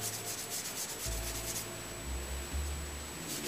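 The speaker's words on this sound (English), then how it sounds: "I'm using some 400 grit sandpaper here" Rhythmic rubbing strokes of 400 grit sandpaper over red iron oxide high build primer on a horn, close and steady, with a faint background hum and no voices.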